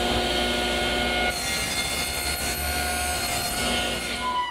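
A saw blade cuts a tenon shoulder in oak for a tall case clock, a loud continuous whining rasp held steady for the whole stretch with a slight shift in tone partway through, no voices.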